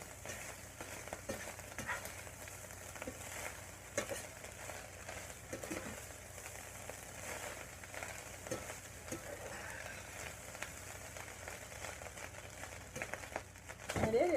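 Breakfast fried rice sizzles softly in a pan as butter and salt are stirred through, with a quiet, continuous frying hiss and faint scraping stirs.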